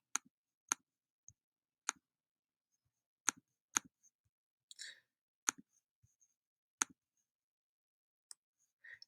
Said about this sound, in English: So you're just going to click right through those.